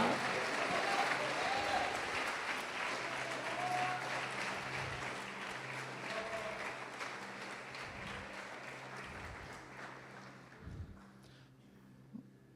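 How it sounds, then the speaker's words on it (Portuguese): Church congregation applauding during a Portuguese-language sermon, a broad steady wash of clapping that slowly thins and fades toward the end, with faint crowd murmur underneath. "Quem crê pode aplaudir o Senhor e glorificar."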